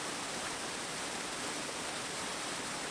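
A waterfall at Allerheiligen rushes as a steady, full, even wash of water noise with no breaks, moderately loud and alone.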